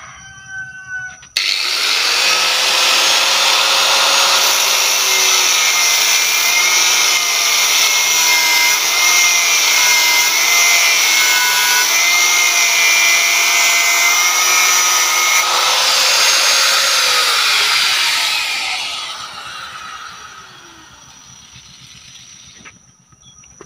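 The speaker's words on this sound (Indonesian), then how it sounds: "Kita menggunakan gerinda." An electric angle grinder cuts through iron, its loud, steady high-pitched whine starting abruptly after a second and holding for about seventeen seconds before spinning down and fading near the end.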